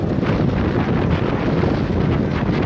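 Steady, loud headwind buffeting on a microphone riding along with a cycling race at 45 to 50 km per hour, a dense continuous rumble with no break and no voices.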